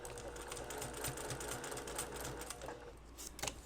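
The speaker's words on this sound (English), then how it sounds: "Just stitch right over top of the guide stitches underneath." Embroidery machine stitching steadily over guide stitches while making an in-the-hoop Go Fish game, a continuous rapid mechanical whir with fine repetitive clicks throughout, close and moderately loud.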